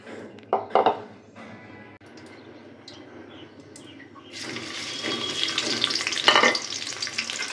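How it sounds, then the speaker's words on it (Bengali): Oil and onions go into a hot pan for a chalkumra and beef dish, a few knocks and clatters first, then a loud, steady hiss of frying that swells up and carries on to the end. "তেল আর পেঁয়াজ দিলাম, একে একে সব কিছু দিব।"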